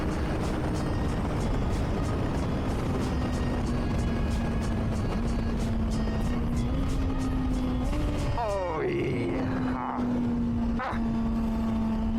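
A 2024 Honda CBR600RR rides through Belgium with a steady, loud engine drone under heavy wind rush. Near the end, an auto-blipper fires a quick rev flare as the bike downshifts.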